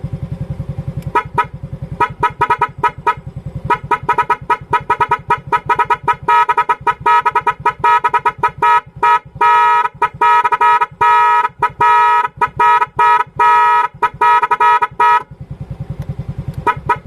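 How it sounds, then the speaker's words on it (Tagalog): A loud dual horn on a Yamaha Mio i 125 scooter, wired through a music horn relay, blasts in rapid rhythmic pulses and longer patterned bursts close by, with an engine idling steadily underneath. "loud horn na merong music rapid relay"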